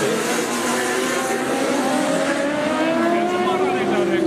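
A Formula Student race car runs on an endurance track, its engine note a steady, loud drone with slowly rising pitch as it passes, continuous for the whole stretch.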